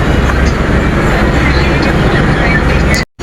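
A bus pulling away and driving, a loud steady rumble of engine and road noise from inside the cabin that continues unbroken before cutting out abruptly at the end.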